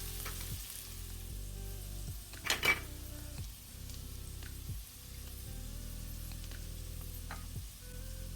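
Minced garlic sizzles in a frying pan, a steady moderate hiss broken by faint clinks and stirring scrapes, with a brief louder burst near the middle.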